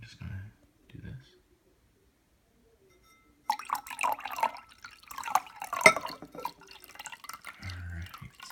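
Homebrewed green tea is poured and stirred into a potion, producing faint drips and liquid sloshing close by, with soft whispered speech over the mixing.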